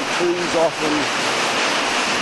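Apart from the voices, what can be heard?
water rushing over the Pulteney Weir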